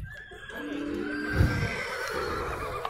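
A horse neighs at a busy horse market, a drawn-out whinny swelling near the middle of the clip over low outdoor rumble and scattered market noise.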